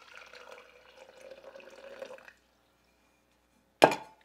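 Water runs from a tap into a container being readied for a caustic soda solution, a steady close splashing flow for about two seconds that stops dead, followed after a pause by a sharp clunk.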